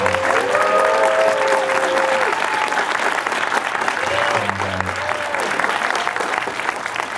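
Audience applause at a web development demo day, a loud sustained wash of clapping with voices and a few whoops rising over it throughout.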